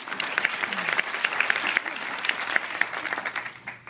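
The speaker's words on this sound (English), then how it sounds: "let's give them a premature round of applause" Audience applause from a live crowd at a speech event, steady dense clapping lasting a few seconds with a few louder claps standing out, close and fairly loud with no talking.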